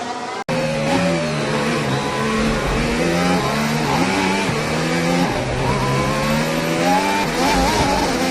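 Formula 1 race cars at the Mexico Grand Prix roar past at full throttle, a loud sustained engine howl with rising and shifting pitch throughout, briefly cut by a sharp break near the start.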